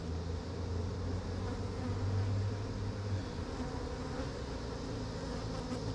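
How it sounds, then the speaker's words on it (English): Honey bees buzz around an open beehive frame heavy with honey, a dense, continuous drone close by with no talk over it. "that frame has got a bee on the side of it"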